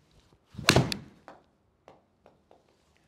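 A 7-iron strikes a golf ball in one loud, sharp close impact followed by a brief ringing decay, with a few faint ticks and taps afterward.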